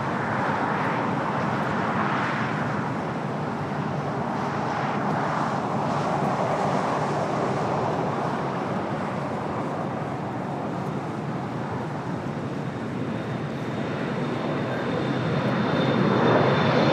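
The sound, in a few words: Air France flight 22 airliner at LAX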